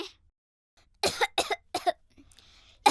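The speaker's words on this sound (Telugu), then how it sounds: "ఏం చేసినా ఈ దగ్గు తగ్గడం లేదు" Three sharp coughs in quick succession, close and fairly loud, followed by a faint final burst after a short pause.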